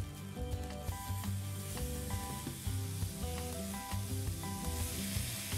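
Ginger garlic paste sizzles and fries steadily in a hot pan, with occasional clinks of a utensil stirring; no voices.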